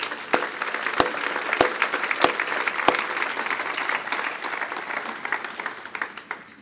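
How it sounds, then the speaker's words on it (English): Applause at a city's State of the City address honoring CDBG staff, a sustained crowd clapping with several sharp, loud nearby claps early on, gradually tapering off over several seconds. "Please help me give them a round of applause."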